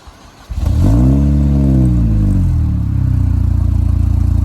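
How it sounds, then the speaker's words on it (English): A supercharged Mini Cooper S R53 with a newly fitted exhaust cranks briefly, then catches and flares up loudly before settling into a steady, throbbing idle close by. "here's the first start of the new exhaust"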